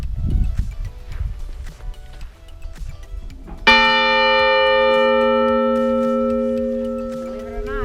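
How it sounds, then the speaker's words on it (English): A loud camp bell strikes once after some clattering and knocking, then its ringing tone hangs and slowly fades over several seconds. "that bell can be heard far and long"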